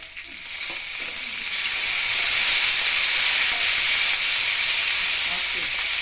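Green chillies, dry chillies and curry leaves frying in hot oil for katte pongali, a steady loud sizzle that swells after the first second and holds, with faint stirring scrapes underneath.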